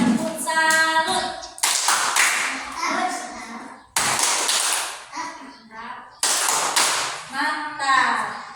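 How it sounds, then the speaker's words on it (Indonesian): A school class claps in bursts of rhythmic patterned hand claps, several rounds separated by short pauses, with children's voices and chanting mixed in among the claps. "Oke, beri tepuk tangan, tepuk salut."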